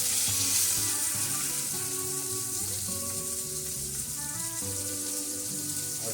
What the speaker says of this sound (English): 60 seconds on each side, let it sear